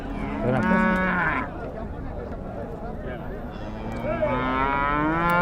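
A calf at the Chintamani cattle market moos loudly in long, close calls, with people talking over and around the lowing amid market bustle.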